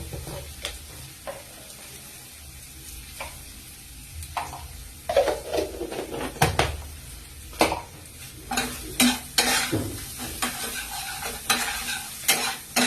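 Cumin powder and spices stirred in a hot pan for a stuffed pointed-gourd dolma with coconut, a spoon scraping and clinking at irregular intervals over a steady close sizzle, louder bursts toward the end.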